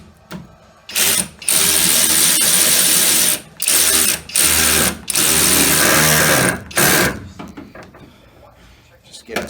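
A power tool tightens a 5/8 nut on the front suspension of a small-body AMC such as a Gremlin or Hornet. It runs loud and close in several bursts of whirring with short gaps between them, and a voice speaks at points.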